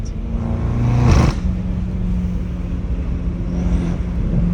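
A straight-piped BMW M5 Competition V8 roars loud and close from inside the car, its revs dropping through a gear shift around the one-second mark before settling into a steady droning cruise.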